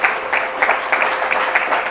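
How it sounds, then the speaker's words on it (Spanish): Audience applause at a church-style gathering, a dense patter of many hands clapping steadily throughout, fairly loud and close, with no talk over it. "Vamos a aplaudirles a la audiencia que nos siguen ellos ahí"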